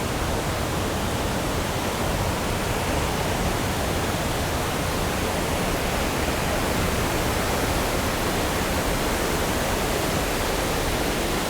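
Underground river waterfall inside the Bramabiau abyss cave, a dense, steady roar of falling water filling the space, loud and unbroken throughout.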